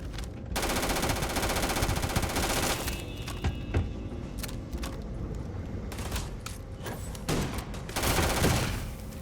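Rapid automatic gunfire from a weapon in the video game Starfield, loud sustained bursts with brief pauses between them, heard alone without speech.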